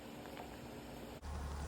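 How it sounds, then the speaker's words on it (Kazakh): Blackcurrant jam starts to boil in a pot over a wood fire, giving off a faint, steady bubbling hiss throughout with no voices. "Мінекей тосап қайнай бастады."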